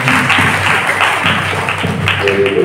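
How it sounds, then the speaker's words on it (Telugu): Clapping from a church congregation gathered for a priest's silver jubilee celebration, a dense, continuous patter of many hands that holds steady throughout, with a faint background hum. "4వసారి చప్పట్లు కొట్టుకోండి"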